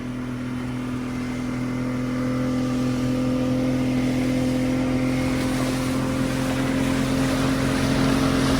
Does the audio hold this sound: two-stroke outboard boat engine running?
yes